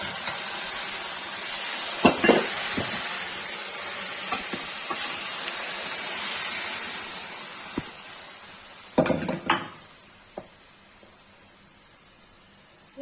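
Chickpeas and red chili stirred and fried in a pan: steady sizzle throughout, punctuated by scraping spatula strokes and occasional knocks against the pan, with no voices.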